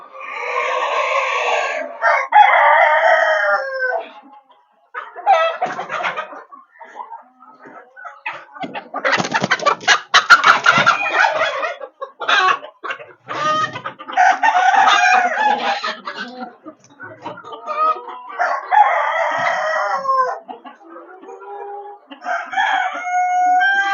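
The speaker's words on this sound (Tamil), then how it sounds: "இந்த கோழி எல்லாமே நம்ம கிட்ட தாய் கோழி முட்டையிட்டு நம்ம ஹேச்சிங் பண்ணி வளர்த்த கோழி தானே இது" Sonali breed chickens on a farm cluck loudly and repeatedly, with a rooster crowing in between, in close bursts separated by short pauses.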